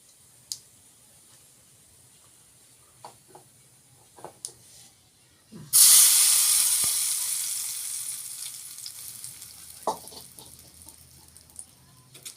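A loud burst of sizzling as a spicy tempering hits hot oil for tomato chutney, fading slowly over several seconds, with faint clicks and a brief clatter before and after.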